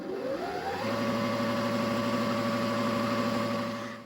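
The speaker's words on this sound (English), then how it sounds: "I had to wind a bobbin up first" A sewing machine winds a bobbin with steady thread, running as a smooth, even motor whir that spins up over the first second and then holds a constant pitch at close range.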